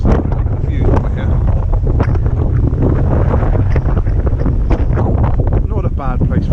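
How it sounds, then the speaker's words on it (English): Strong wind gusts buffet the microphone outdoors on a hilltop lookout, a loud, steady rumbling roar that persists throughout and partly drowns out someone speaking. "Sorry about the wind."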